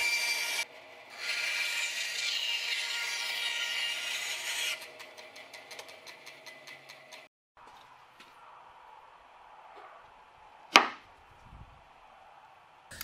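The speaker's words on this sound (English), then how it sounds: "I'm using the X-carve to actually cut those mortises" An X-Carve CNC router cuts mortises in wood, with a close, hissing whine of the bit in the stock, then lighter rhythmic cutting passes, a pause, and one sharp knock.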